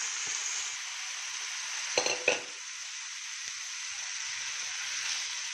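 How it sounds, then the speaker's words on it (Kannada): Cooked carrots and beans fry in a tempering with grated coconut, a soft steady sizzle with a brief clatter of stirring partway through, and no one speaking. "ಇದು ಸ್ವಲ್ಪ ಫ್ರೈ ಆಗಲಿ ಒಗ್ಗರಣೆ ಒಳಗಡೆ."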